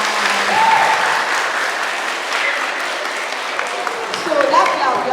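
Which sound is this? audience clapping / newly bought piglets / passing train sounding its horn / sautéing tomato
audience clapping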